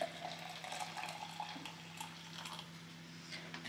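Hot water poured from a kettle over loose tea in a cup, a soft, steady trickle and fill that stays faint and continuous throughout, with no talking.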